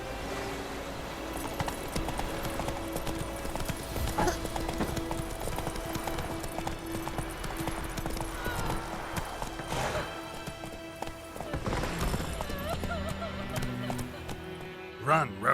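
Horse hooves galloping in The Witcher 3 video game, a fast steady clip-clop over a continuous bed of game sound and music, with a voice speaking now and then.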